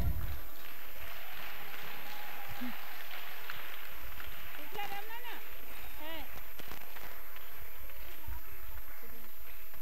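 Applause at a vacation Bible school prize-giving for children's musical chairs winners, a dense crowd of clapping spread through the room over a busy hall with overlapping voices.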